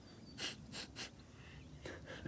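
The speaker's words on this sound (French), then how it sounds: "j'entends Chaya qui vient de renifler un peu fort, comme ça." A dog sniffs loudly in a few quick bursts of nasal huffs, close up, against a faint outdoor background.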